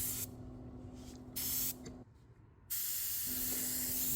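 Spray gun applying clear coat to a Lexus LC 500 bumper during an outdoor repair, giving close hissing bursts in several separate passes with short gaps between them.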